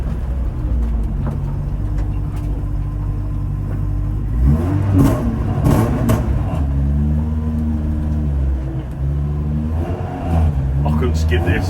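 A Toyota AE86 engine idles with a raspy, throaty rumble, revving up briefly in the middle before settling back to a steady drone.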